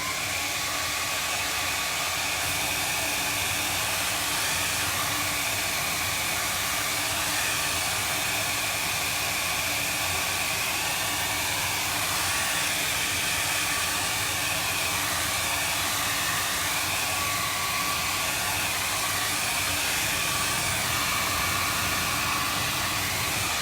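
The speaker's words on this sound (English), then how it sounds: "let me hit it with a dryer" A hair dryer blows steadily to dry paint on a pumpkin painting, a loud, continuous broadband whoosh that runs unbroken and close for the whole stretch.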